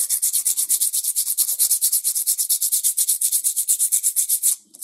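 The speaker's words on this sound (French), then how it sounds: "je vais commencer le ponçage par un bout" A metal model tank track link is sanded with rapid, even back-and-forth strokes, giving a loud, close, rhythmic scratching that runs steadily and breaks off briefly near the end.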